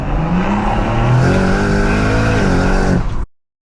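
A loud, close turbocharged BMW M140i engine revving hard and climbing in pitch, then cutting off abruptly into silence.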